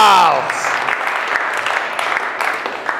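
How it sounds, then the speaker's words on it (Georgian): Audience applause for the Gama people at a GAMA FURY MMA ceremonial weigh-in, a sustained wash of clapping that follows a voice at the start and continues steadily to the end. "აპლოდისმენტები გამას ხალხს"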